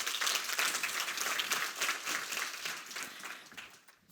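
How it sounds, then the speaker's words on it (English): A live audience applauds to welcome a speaker to the stage, with dense, steady clapping throughout that fades slightly toward the end. "please give a big round of applause to welcome her to the stage."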